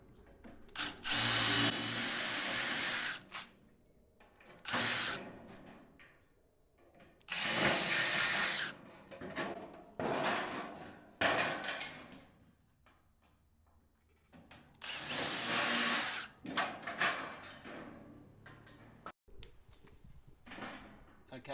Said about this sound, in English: Now I'm going to remove the rivets that I put in there.